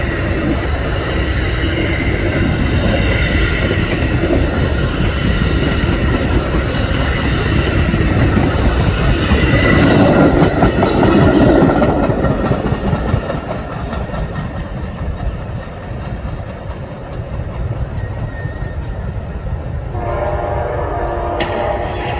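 A train rolls loudly through downtown Lakeland, Florida, its horn sounding over a steady rumble and clatter of railcars that peaks midway, then eases to a lower continuing roll.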